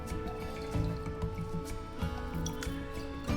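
Lemon juice is poured into tea boiling in a pot. A soft, wet dripping and squishing patter runs steadily over a bed of bubbling and background hum.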